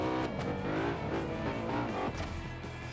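A car in the BeamNG.drive driving game accelerates with a strained, struggling engine, a steady droning whine rising and dipping in pitch as revs climb, with a faint tire squeal near the end.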